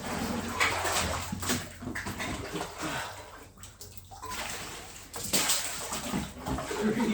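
Water sloshing and splashing as a bucket is dragged through and filled in a bathtub, loud and close with continuous churning that briefly dips midway before surging again.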